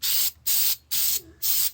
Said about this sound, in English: Spray this back a little bit more.